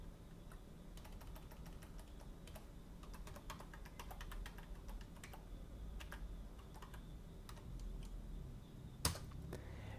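Quiet, steady typing on a computer keyboard while configuring an OpenLDAP server, a continuous run of soft key clicks with one sharper tap near the end, no voices.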